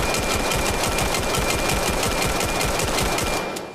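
Rapid, continuous fire from a G17 handgun in the video game Vail, with a dense, steady stream of loud shots at an even rhythm lasting several seconds before trailing off at the end, no talking.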